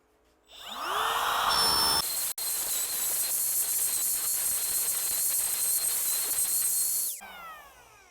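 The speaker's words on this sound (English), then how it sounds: "and route this out a while." A wood router spins up and cuts a 1/4 inch deep bowtie pattern into a wooden clock face, a loud steady high-pitched whine held for several seconds with a brief dip before winding down.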